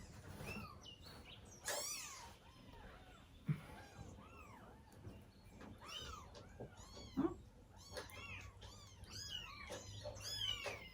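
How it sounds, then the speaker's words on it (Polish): Hungry kittens meow repeatedly while eating, thin high mews overlapping in a quiet room, some faint and some closer, with soft chewing noises between them. "Ale kocięta są głodne, no po prostu są głodne."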